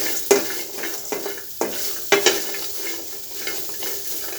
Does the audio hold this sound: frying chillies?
yes